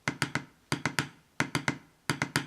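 Side drum triplet exercise, four groups of three sharp strokes played hand to hand, crisp and close with short gaps between each group.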